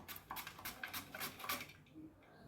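Potatoes being sliced on a vegetable cutter produce a quick run of light, crisp scraping strokes, each one short and close, then they stop before the end.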